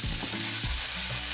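Pancetta sizzles steadily in a hot pan for carbonara, a dense close frying hiss with a few soft scrapes of stirring and no voices.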